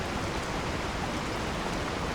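Steady, dense rain hiss fills the whole moment, loud and close with no pauses or voices.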